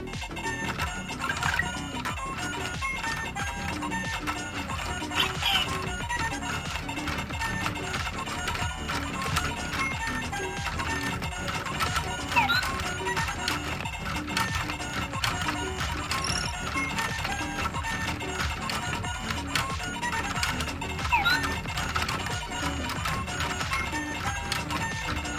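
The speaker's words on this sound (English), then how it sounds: "place the character on top of the action tag and activate the crank" The crank on a LEGO Super Mario Mario & Yoshi set is turned, producing a continuous fast rattle of plastic clicks and taps as the mechanism moves, close and fairly quiet.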